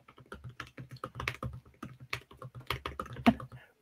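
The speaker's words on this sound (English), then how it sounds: "Go steady on that keyboard, Roger." Fast, steady typing on a computer keyboard, close and crisp, a busy stream of key clacks with no talk over it.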